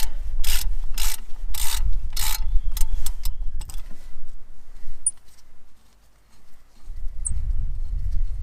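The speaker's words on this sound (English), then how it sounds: "Pull the upper bolt out." Upper brake caliper bolt being drawn out of a front brake assembly on a Mazda 6: a few loud, close metallic scrapes and rattles in quick bursts, then quiet with faint clinks.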